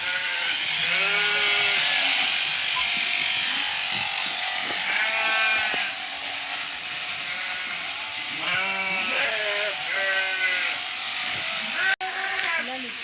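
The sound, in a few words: sheep bleating during shearing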